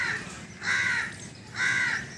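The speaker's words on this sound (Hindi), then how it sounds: "ये कौवा मीनार के ऊपर बैठा हुआ है, मस्जिद के मीनार के ऊपर सुबह सुबह कैं कैं कर रहा है।" A crow perched on a mosque minaret in the morning gives two loud, drawn-out caws about a second apart, over a steady outdoor background hiss.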